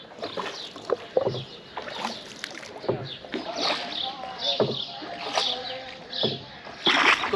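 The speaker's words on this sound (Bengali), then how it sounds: "এই ডিঙি নৌকাগুলো ইউজ করা হয় পারাপারের জন্য" A small wooden dinghy is rowed across Dal Lake in Srinagar, Kashmir, with soft repeated paddle splashes and water sloshing close by, faint overall, while people talk quietly.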